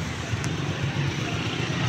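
A TVS Rockz 125cc motorcycle rides in second gear at around 85 km/h, giving a steady, loud engine drone mixed with road and wind rush and no speech.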